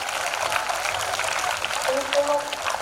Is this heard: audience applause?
yes